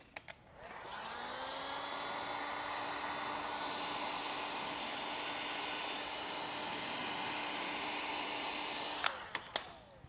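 A heat gun blows a steady, loud whooshing roar for about eight seconds while warming vinyl wrap on a Tesla Cybertruck, starting abruptly and cutting off with a few sharp clicks at the end.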